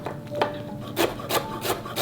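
A knife finely chopping deseeded autumn chili peppers on a board, a series of quick, close rasping strokes in short bursts, about five distinct cuts.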